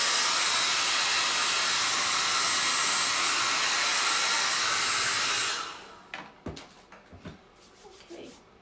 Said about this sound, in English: I'm going to speed it along with my hair dryer